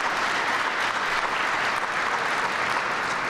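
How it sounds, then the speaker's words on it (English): Steady, dense applause from an audience at a civic awards ceremony honoring public servants, sustained at full strength without a break and without voices rising above it. "let's give another round of applause to these incredible public servants"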